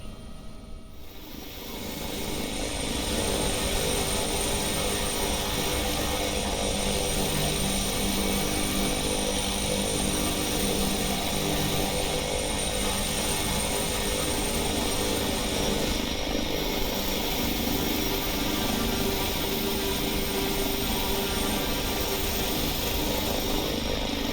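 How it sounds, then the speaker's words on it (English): Helicopter flying in the X-Plane 11 flight simulator game: a loud, steady rotor and engine drone that rises within the first two seconds, then holds evenly throughout with no talk. "the real test here is going to be whether or not this helicopter can get down safely"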